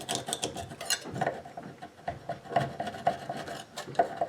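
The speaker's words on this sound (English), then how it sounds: "an old knife to gently scrape around the edges" An old knife scrapes mildew from the edges around a bathroom faucet, giving close, uneven rasping strokes with small ticks and scratches at irregular intervals.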